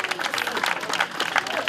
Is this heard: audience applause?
yes